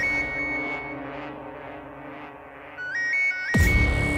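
Electronic ringtone on a phone: a steady melodic tone with a few stepped beeping notes, fairly quiet against a low background hum, ending in a sudden louder burst of sound.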